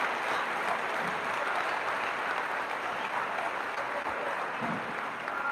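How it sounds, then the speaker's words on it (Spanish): Applause from a congregation during an evangelical church service, a steady dense wash of clapping that holds at even loudness throughout with no talk over it. "Tribútele un fuerte aplauso a Cristo, alabanza."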